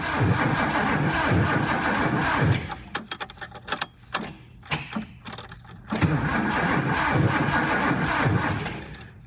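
A 1976 Datsun 280Z engine turns over in bursts of cranking and stuttering before catching and settling into a rough, steady idle, close and loud throughout.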